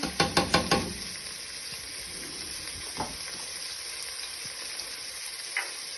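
Chopped onions, garlic and peppers for a prawn jambalaya sizzle steadily in a pan. A quick run of five sharp utensil knocks opens the stretch, then a soft hiss carries on alone with a few faint scrapes.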